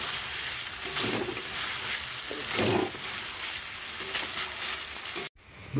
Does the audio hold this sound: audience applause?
no